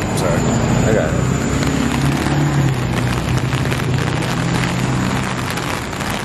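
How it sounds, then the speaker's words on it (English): Steady rain falls outside in a broad, constant hiss that stays loud and even throughout, with no voices standing out. "As y'all can see, it's raining."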